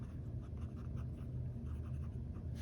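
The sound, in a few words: fountain pen with fine nib writing swirls on paper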